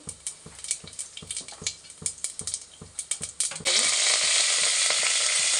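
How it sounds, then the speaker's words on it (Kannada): Rhythmic stirring clicks in a pan give way to a sudden loud, continuous sizzle as mustard seeds hit hot oil and sputter in a home kitchen while sambar is prepared. "ಎಣ್ಣೆ ಕಾದ್ಮೇಲೆ ಸಾಸಿವೆ ಹಾಕಬೇಕು ಸಾಸಿವೆ ಚಟ್ಪಟ್ ಅಂದಮೇಲೆ"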